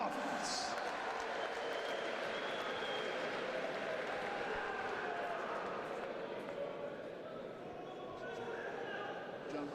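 A crowd at a live professional boxing event in Wales applauds and cheers as a debuting fighter is introduced, a dense, sustained roar of clapping filling the hall at a moderate distance and holding steady.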